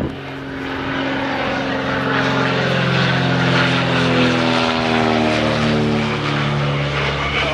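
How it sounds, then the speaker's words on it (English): A propeller airplane makes a low flyby at a fly-in on Georgian Bay, its engine drone swelling loud and close and holding steady as it passes. "10 out of 10 on the flyby there, Keith."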